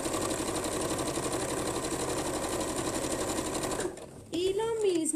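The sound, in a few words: sewing machine stitching the seam of a paper-technique bag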